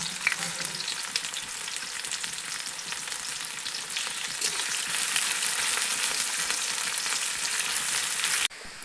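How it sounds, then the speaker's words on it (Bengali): Chopped onions fry in hot oil with whole spices as they turn lightly browned, a loud continuous sizzle with crackles and stirring that cuts off abruptly near the end. "তো পেঁয়াজটিকে প্রথমে হালকা লাল লাল করে ভেজে নিচ্ছি"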